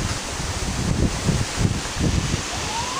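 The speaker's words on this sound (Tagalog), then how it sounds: "lakas na ng hangin" Strong typhoon wind in Quezon Province, Philippines, gusting and buffeting the microphone, with a low rumbling roar and rustling that swells and fades in waves.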